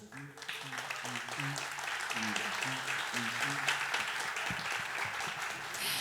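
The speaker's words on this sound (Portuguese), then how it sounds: "Por favor, uma salva de palmas" Broad, steady clapping from a live festival audience welcoming a panel guest, continuous for about six seconds over background music with a low bass line.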